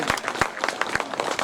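An audience at a poetry event claps briefly, with distinct individual hand claps in an uneven patter, close and moderately loud over a murmur of voices.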